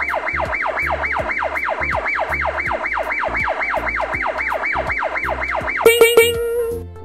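A wailing cartoon siren rises and falls in a rapid, regular cycle around twenty times for the Siren Head character, then cuts to a few clanging bell-like hits and a sustained tone at the end.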